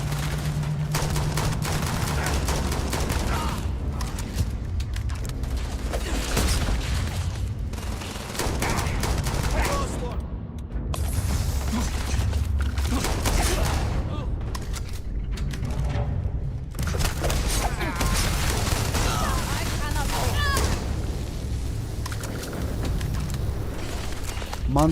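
Turrets in Starfield fire rapid volleys of gunshots in dense overlapping bursts, with booming impacts mixed in, loud and continuous across the span with occasional brief lulls.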